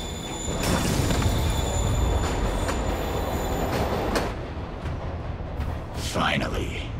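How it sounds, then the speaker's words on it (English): Train in the Marvel's Spider-Man video game pulling away from a platform, a loud rumble with high squealing tones that fades out partway, followed by brief game sounds. "Train moving."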